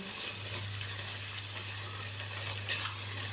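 Potato halwa roasting in ghee in a pan, giving a steady soft sizzle and hiss with faint scraping clicks, alone and continuous with a low steady hum underneath.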